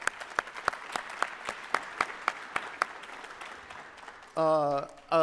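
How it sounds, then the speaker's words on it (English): An audience at a PechaKucha talk event on artificial intelligence gives a round of applause, with sparse, separate claps that thin out, followed by a brief burst of voices at the end. "So let's give this folks a round of applause as well."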